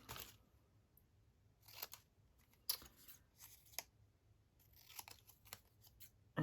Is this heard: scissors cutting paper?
yes